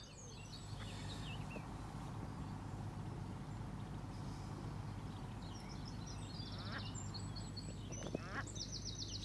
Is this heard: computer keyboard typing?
no